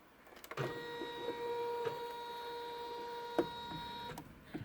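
An embroidery machine stitches vinyl onto an in-the-hoop zippered pouch with a steady, faint mechanical hum. Soft clicks and taps break in a few times along the way.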